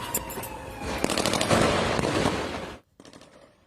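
Gunfire from drug cartel turf fighting in Mexico crackles as rapid automatic bursts and scattered shots, dense and sustained, before stopping abruptly, followed by a few fainter pops.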